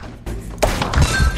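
An explosion in the video game Zuma's Revenge sets off a sudden thump at the onset, followed by a short crackling burst with game music running underneath.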